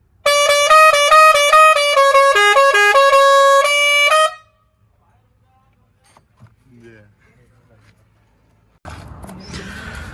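Pressure horn on an Eicher BS6 truck plays a loud, close melodic tone pattern for about four seconds, followed by near silence with faint thumps and then a burst of noisy rustling.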